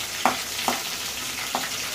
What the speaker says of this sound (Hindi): एक मिनट तक इसको फ्राई कर लेंगे।